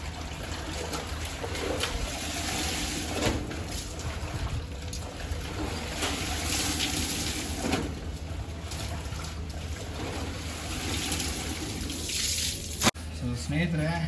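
Water is poured and splashed over dirty motorcycle riding gear during washing, a steady close wash of running and trickling water lasting throughout, ending with a brief knock.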